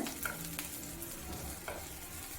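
Shallots sauté in hot oil with a continuous close sizzle, broken by occasional clinks and scrapes of a stirring spoon.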